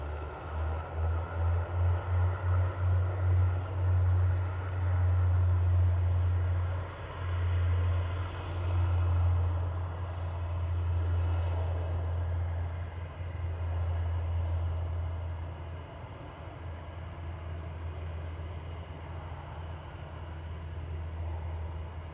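An airliner takes off at Manchester Airport, heard from a fair distance: a steady, broad jet roar with a strong low rumble holds for over twenty seconds and slowly fades.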